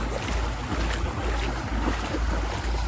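A service boat pushed off at Boracay Island in bad weather, heard as strong wind buffeting the microphone over a steady wash of waves and water, loud and continuous with no speech.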